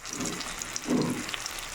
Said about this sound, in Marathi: तेलामध्ये बटाटे आणि टोमॅटो फ्राय होत आहे